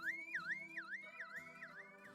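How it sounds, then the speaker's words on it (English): A triggered electronic alarm wails in a rapid rising-and-falling two-tone cycle, repeating steadily about four times, fairly faint and heard alone with no voices. "they are interrupted by a triggered alarm."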